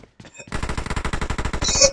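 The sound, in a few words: gunfire in PUBG Mobile video game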